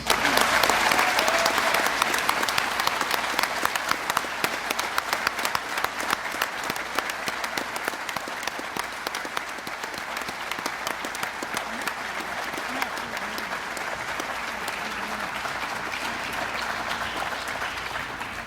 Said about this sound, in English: I'd like to do a round of applause for all the recipients and their families.